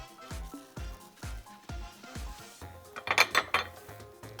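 Metal utensil scraping and knocking against a pan while vermicelli pudding with desiccated coconut is stirred, a steady rhythm of close, distinct strokes, then a quicker burst of clinks near the end.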